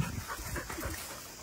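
Abandoned mother dog and her puppy panting close by, a quick steady breathing rhythm with no talking, lasting about a second and a half.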